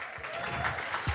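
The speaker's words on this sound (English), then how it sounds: "One more round of applause as we take a photo with the winners." Brief, fairly faint applause from an audience at an awards event with investors and entrepreneurs, a soft patter of clapping with a couple of low thumps.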